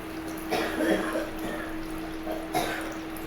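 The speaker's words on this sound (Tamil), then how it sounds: "இதோடு இப்போ நம்மளுக்கு தேவையான அளவு தண்ணி ஊற்றி ஆட் பண்ணிக்கலாம்" Water pours into a cooking masala in a pan, giving short splashy bursts and a soft trickle against a steady background hum, with two stronger pours standing out.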